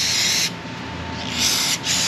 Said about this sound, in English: let's spray out these holes a little bit because there is some dirt near here